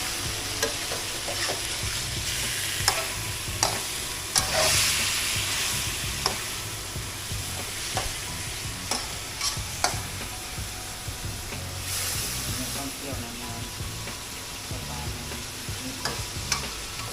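Catfish pieces are stir-fried in a hot pan with a steady crackling sizzle and repeated scraping strokes from a utensil, close and continuous throughout.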